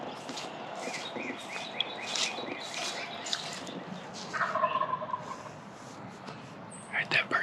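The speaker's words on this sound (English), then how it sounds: "Alright, that bird's gobbling over here." A wild turkey gobbles outdoors at some distance, a faint, rattling call rising briefly above steady field ambience, followed by a couple of short, sharper sounds near the end.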